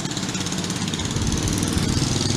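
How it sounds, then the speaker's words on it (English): A lawn mower engine runs nearby in a fenced suburban backyard, a steady, loud, continuous drone with rough low rumble and no speech. "And we got a lawnmower firing up behind me."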